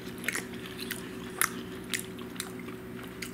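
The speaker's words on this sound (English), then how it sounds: "I'm just going to give it a taste test real quick, see if it's actually any good." Taco mac and cheese being eaten for a taste test, with soft close chewing and a few sharp crunchy bites standing out against a quiet kitchen background, no talking.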